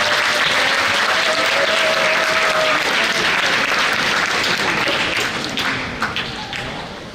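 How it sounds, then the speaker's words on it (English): An audience at a high school freshman information night bursts into sustained applause for a speaker, a dense, loud wash of clapping that holds steady for several seconds before starting to thin out. "I hope when he comes up here, everyone will give him a thunderous round of applause"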